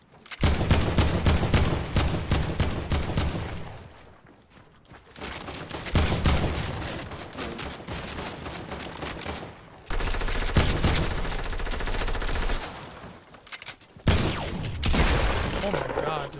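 Rapid automatic gunfire from a shooter video game, with long dense bursts broken by short pauses, loud and close, with a voice in places.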